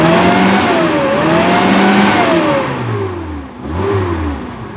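Suzuki Carry engine with an LPG hybrid conversion, switched over to petrol, runs steadily and fairly loud nearby, revving gently with slowly rising and falling pitch before easing and picking up again.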